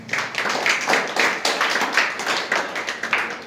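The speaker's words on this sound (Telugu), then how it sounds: "ఒకసారి అందరు చప్పట్లు కొట్టారు వాళ్ళకి." A church congregation claps for people giving baptism testimonies, a loose rhythmic burst of hand claps that pulses in repeated waves at moderate volume, close and without speech over it.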